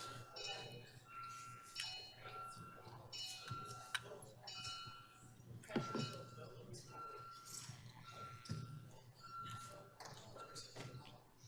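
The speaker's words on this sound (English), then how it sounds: "If you can ring the bells." Bells ring in a city council chamber to call a recorded vote, a run of light, repeated chiming tones heard under quiet murmuring talk in the room.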